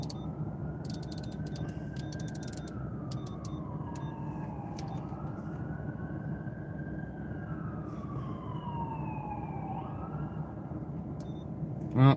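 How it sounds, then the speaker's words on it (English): An ambulance siren on a live emergency scene wails in long, slow rising and falling sweeps, moderately loud above a constant dense background roar, with no voices. "sounds and looks like they have an ambulance coming for the guy"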